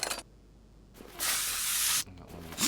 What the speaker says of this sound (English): I really do wish that WD-40 would work that fast in real life